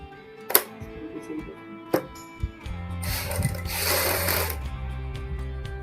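A sewing machine stitches along the neckline of a suit, starting after a few scattered taps and handling knocks, then running as a steady, close mechanical whir for the remaining seconds.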